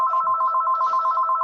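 Telephone bell ringing loud and close, a rapid continuous warbling trill sustained without pause, alone with no talk.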